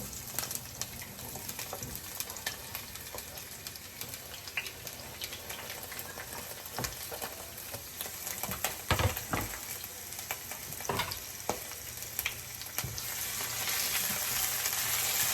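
Peppers and other vegetables fry in hot olive oil in a pan for Cajun chicken alfredo, a steady close sizzle broken by occasional stirring scrapes and clatter, with no talking.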